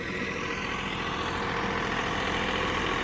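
A John Deere 3046R compact tractor engine runs at a steady idle, a continuous low rumble with a diesel clatter held constant throughout, close and fairly loud with no talking.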